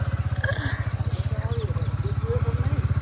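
Motorcycle engine running with a steady pulsing thump at close range, under voices of people talking nearby.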